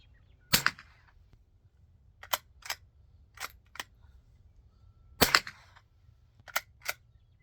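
Sharp cracks of shots from a Sears J.C. Higgins Model 43DL .22 rifle, two louder reports several seconds apart with quieter metallic clicks of the action between them, close and dry against near silence.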